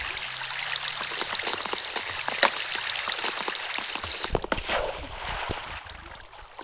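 Flowing water in the Minecraft video game, a continuous trickling, bubbling stream with a few sharp clicks mixed in, fairly close and steady throughout.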